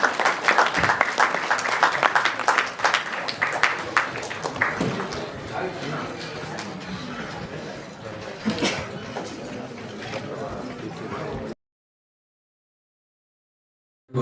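A crowd at a Kannada film event applauds to thank Jagadish sir, a dense wash of clapping with voices mixed in, strongest at the start and fading toward the end before cutting to silence.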